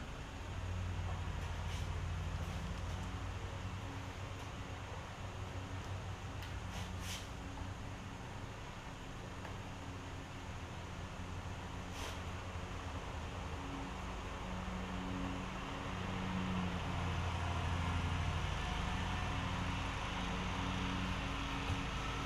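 A Kohler Courage V-twin engine on a Craftsman DYS4500 lawn tractor runs throttled down, a faint steady low hum and broadband rumble with a few small ticks, no voices.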